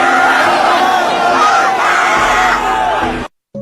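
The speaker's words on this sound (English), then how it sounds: "just listen to the cries for help" A dense crowd at the Astroworld concert screams and yells for help in a loud, continuous wall of panicked voices that cuts off abruptly near the end.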